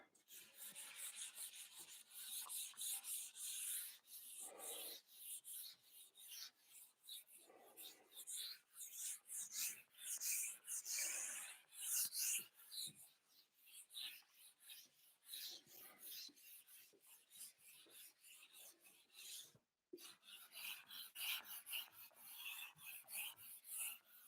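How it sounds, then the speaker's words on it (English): A board in a maths lesson is rubbed clean with long raspy, scratchy strokes, close and continuous with brief pauses, the rough wiping noise rising and falling in rhythm. "I'm just going to rub the board while you guys get thinking of some questions."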